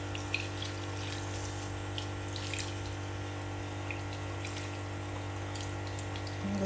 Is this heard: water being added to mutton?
yes